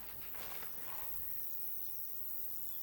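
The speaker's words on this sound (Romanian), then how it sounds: "Vedeți că se aud greiere." Crickets chirp in freshly mowed garden grass in June, a thin, steady high trill running continuously and fairly faint through a soft outdoor background.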